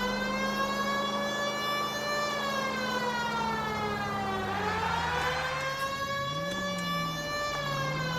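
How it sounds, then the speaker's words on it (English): Police car siren in the LA Noire video game, a loud, continuous wailing tone that holds steady, swoops down and rises again, with a rich stack of harmonics. "If I got the siren on, people would probably be nicer to me."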